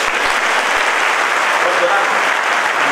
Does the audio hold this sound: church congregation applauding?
yes